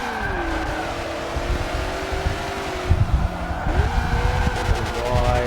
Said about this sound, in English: So I got a V8 with 2 turbos